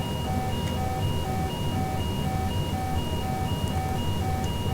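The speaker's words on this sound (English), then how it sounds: "our overspeed's going off" Boeing 787-10 overspeed warning sounds in the cockpit, a repeating electronic tone pulsing in a steady rhythm over a constant engine and airflow hum.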